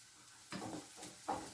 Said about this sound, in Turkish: Soğanı güzelce kavuruyorum birazcık iri doğradım.